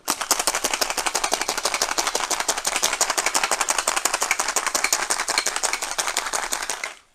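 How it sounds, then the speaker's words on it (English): Ice rattles hard inside a lidded cocktail shaker as a mocktail is shaken, a fast and steady loud rhythm that runs for several seconds and then stops abruptly. "It does get a bit messy when you're shaking drinks. So shake that up."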